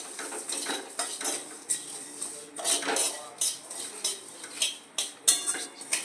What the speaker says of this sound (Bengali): কড়াই দিয়ে একটু ঘি দিয়ে আমি শিমুলগুলোকে ভেজে নেব হালকা করে